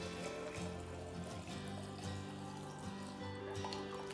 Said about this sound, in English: I'm gonna pour my water into my mason jar.